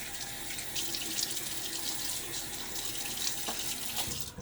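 Water gushes steadily from a bathroom tap into a sink while a man wets his face before shaving, a continuous close splashing stream lasting several seconds with no talking.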